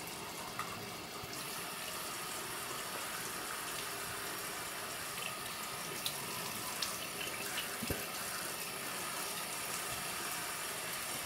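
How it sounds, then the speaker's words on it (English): A bathroom faucet runs steadily while the sink is cleaned during a night-time routine, a constant close hiss of flowing water with a faint knock or two and no talk. "Clean the sink again."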